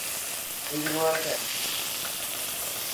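Meat searing skin side down in a hot pan gives a steady frying sizzle that swells briefly in the middle, with a short clattering stir as it is moved around, close and fairly loud.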